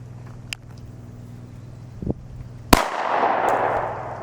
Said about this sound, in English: All right, first two shots, try to put them on target.